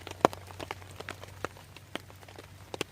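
Rain falls on a tent at a wild camp in late summer, sparse drops tapping the fabric in irregular light patters, one sharper close hit early on, over a faint steady background.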